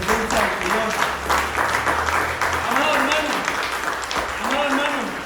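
A church congregation claps in sustained applause while voices and shouts rise through it, with someone speaking or calling out over the clapping.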